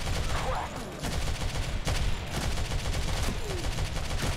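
Gunfire in the Android shooter Modern Combat 3, loud sustained automatic bursts with sharp cracks throughout, over a continuous noisy game backdrop.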